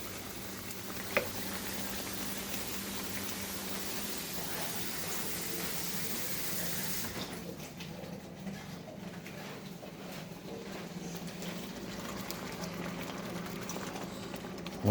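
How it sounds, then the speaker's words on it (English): Water heats toward a boil in a pot for Spanish rice, giving a steady, faint hiss and rumble that grows softer and more bubbly partway through, with no talk. "Put water. You're gonna bring this to a boil."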